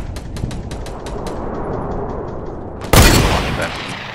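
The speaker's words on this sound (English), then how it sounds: "they're trying to snipe me now" Sniper rifle fire rings out in Fortnite: a run of faint, rapid, distant clicks, then one loud, sharp shot with a brief ringing tail, over a low game background.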